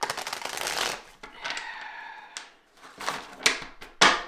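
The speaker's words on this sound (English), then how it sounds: "Something about hearing these cards shuffle." Tarot cards are shuffled in several quick riffling bursts, crisp and close, with short pauses between them and no talking.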